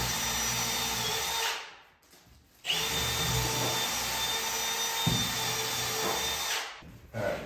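A power drill pre-drills holes in wood, running in two long, loud, steady whirring bursts with a brief spin-down and restart between them, ending with a short final rev and no talking.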